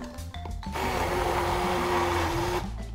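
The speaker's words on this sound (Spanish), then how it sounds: "Solo estoy moliendo los chiles con el tomate." A kitchen blender grinding chiles and tomato whirs steadily for a couple of seconds, loud and continuous, before winding down.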